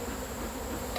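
Agitated honeybees at an opened hive buzz in a dense, loud, continuous drone close by, with no talk.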